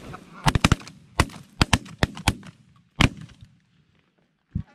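Hunters fire shotguns at geese, a quick run of sharp, loud reports in close bursts followed by a few scattered single shots and one last blast after a pause, with faint murmuring between.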